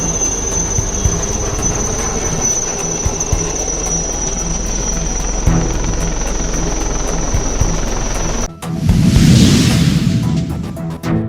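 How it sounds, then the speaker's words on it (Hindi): Helicopter passing over the Fort William victory memorial army headquarters in Kolkata during a flower-shower on Vijay Diwas, a steady loud rotor drone with a high whine, cutting to a brief burst of louder rumbling near the end. "कोलकाता स्थित फोर्ट विलियम्स के विजय स्मारक सेना मुख्यालय पर हेलीकॉप्टर से फूलों की बारिश की"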